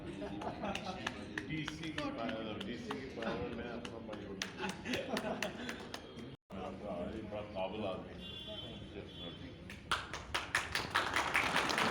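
An audience applauds Virendrajit Singh at a gathering of Jammu artists with a BJP leader. Scattered claps rise over an ongoing voice, growing into a denser burst of clapping at the end.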